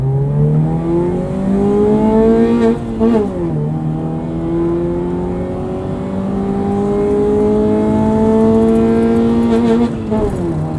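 A rotary-swapped Lada 2106 accelerates hard in first gear, its engine note climbing steadily and loudly with brief dips at shifts or wheelspin, close and continuous throughout.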